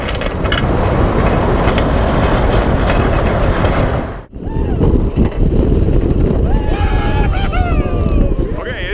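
A ride on the Steel Vengeance roller coaster during a media day: loud, continuous rumbling roar of the train on the track with heavy wind buffeting, a brief dip midway, and people's voices and screams faintly over the din.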